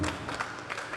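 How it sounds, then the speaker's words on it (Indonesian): Applause from a church congregation at an evangelistic service, a brief, dense burst of many people clapping that carries steadily through the moment at moderate loudness. "Tepuk tangan buat Tuhan."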